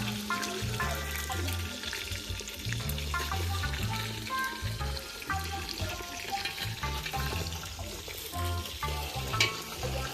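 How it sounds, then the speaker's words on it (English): Continuous crackling sizzle of barracuda frying in hot oil, with occasional clinks and scrapes over the bubbling. "Almost done frying, guys."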